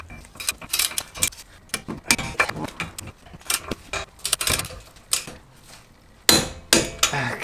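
Brake caliper bolts on a Subaru BRZ / Toyota FRS are tightened with a torque wrench, producing close, irregular metallic clicks, ratchet ticks and clanks in short bursts separated by pauses.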